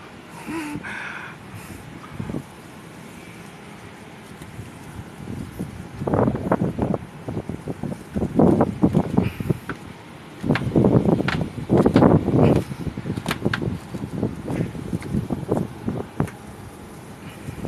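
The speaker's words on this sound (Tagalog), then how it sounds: "Pabugso-bugso yung hangin" Gusty wind buffets the microphone in rough, rumbling bursts that swell and fade, growing stronger and more frequent toward the middle and end.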